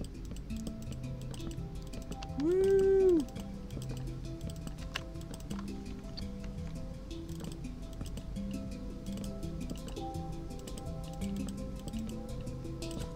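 Steady rapid clicking of keys, like fast typing on a loud keyboard, with a brief tonal chirp early on and a constant low hum underneath.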